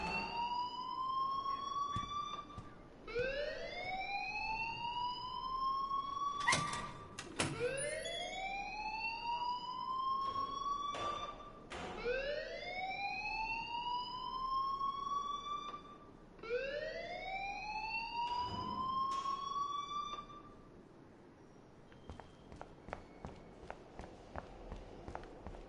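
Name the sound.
alarm ringing in the video game Life is Strange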